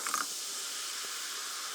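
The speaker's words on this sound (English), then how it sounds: "you pour in the pineapple natural flavor sparkling water into this" Pineapple-flavored sparkling water is poured into a mug, starting with a brief splash and settling into a soft, continuous carbonated fizz, quiet and close.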